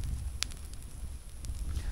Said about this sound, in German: wir machen ein ganz kleines Feuer an, um die Mücken zu vertreiben